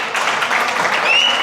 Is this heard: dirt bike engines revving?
no